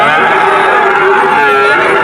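A calf moos loudly and steadily at a busy cattle market in Betaga, one long sustained bellow close by with crowd noise around it.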